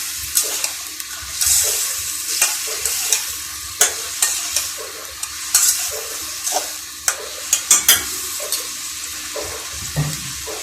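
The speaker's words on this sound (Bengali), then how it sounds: "এখন আমি মিষ্টি কুমড়াগুলি দিয়ে একটু কষিয়ে নিব।" Sweet pumpkin pieces are stir-fried in spice masala for a shrimp curry, with a loud, continuous sizzle and repeated sharp spatula scrapes and knocks against the pan.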